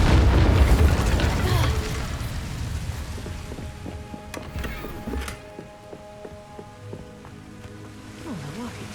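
Incendio fire spell cast in Hogwarts Legacy: a heavy low boom and crackling burst up front, easing into rumbling, popping fire and scattered magical chimes, with talk mixed in.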